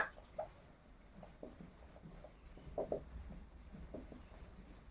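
Chalk or marker strokes on a classroom board during an English grammar lesson, a steady run of soft scraping marks and taps at moderate level with no talk over them.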